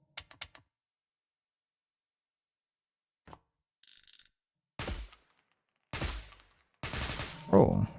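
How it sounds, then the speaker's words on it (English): An MK14 EBR rifle in the Minecraft Superb Warfare mod fires in automatic mode, sharp bursts of rapid shots separated by silence, growing denser and louder toward the end alongside mechanical clicks. "Oh, you can shoot this automatically too."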